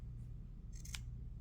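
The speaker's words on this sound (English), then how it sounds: "I can trim the seam allowance in here." Scissors trimming the bias-cut fabric seam allowance on a slash pocket, a single quick crisp snip close up over a low steady room hum.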